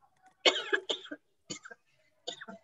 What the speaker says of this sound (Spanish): Estoy tosiendo, pero no es coronavirus.